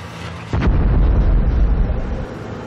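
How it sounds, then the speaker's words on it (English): A deep underground mining blast in a tanzanite mine tunnel in Tanzania, a sudden loud boom followed by a heavy, sustained rumble that slowly fades. "miners flee the blast, which sometimes creates the collapse of neighboring tunnels"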